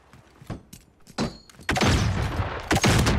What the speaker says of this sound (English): Oh shit, I ran into that grenade.